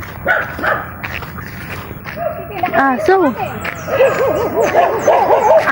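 A dog barks in quick, sharp bursts while chasing, close by and mixed with yips and whimpers, as people talk and shout over it throughout.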